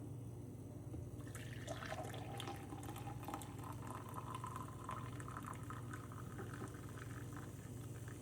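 Brewed coffee pours steadily from a Ninja CE251 coffee maker into a container for several seconds, a continuous close trickling and gurgling stream.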